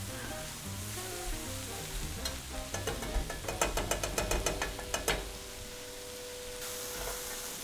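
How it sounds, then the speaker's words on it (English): Chopped vegetables sweating in a roux for New Orleans shrimp étouffée sizzle steadily in the pot, with a run of close scraping and clicking stir strokes partway through, no voices. "Get all these veggies all sweated out"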